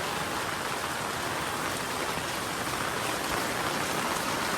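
Heavy monsoon rain that has fallen for days pours down outside a village house as a dense, even roar of water, continuous and loud throughout, with no voices.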